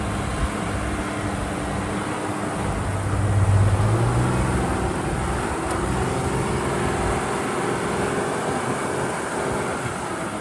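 A truck with 40-inch tires drives on the deep-rutted beach sand of St. Augustine with a steady low engine rumble and road noise heard from inside the cab, constant and fairly loud, with no talk.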